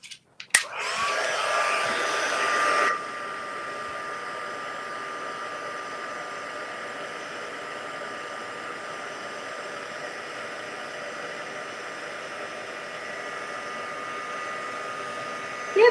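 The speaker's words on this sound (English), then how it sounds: "let's give this a heat set." An embossing heat tool blows steadily on embossed powder at close range, a loud broadband hiss for about three seconds that then steps down to a quieter continuous whir running to the end.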